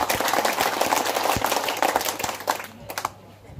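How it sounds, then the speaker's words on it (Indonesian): A crowd applauds at a gathering honoring Bapak Simon and Bapak Felix, dense clapping holding for about three seconds at moderate distance before tapering off into scattered claps. "Kita tepuk tangan untuk Bapak Simon dan Bapak Felix."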